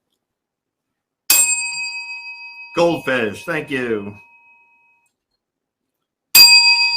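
A bell rings twice with a bright, sharp metallic ding and long ringing tail, loud and close, separated by a few seconds; a voice speaks briefly between the two strikes.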